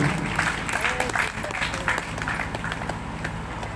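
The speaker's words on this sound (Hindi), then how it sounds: "एक बार जोरदार ताली बजाओ बहन जी के लिए।" Applause from a crowd at a Hindi religious katha gathering for a woman, steady clapping throughout with voices and music mixed in beneath.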